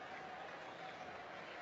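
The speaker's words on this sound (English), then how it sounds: "Big crowd here" A big baseball stadium crowd at a 2011 World Series game between the Cardinals and Rangers produces a dense, steady murmur and roar, heard briefly as an even wash of noise.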